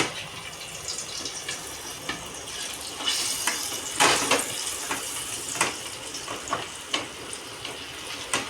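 Gathiya snacks frying in a pan at home, a steady sizzle of oil broken by repeated sharp clinks and scrapes of stirring, close by, with no talking.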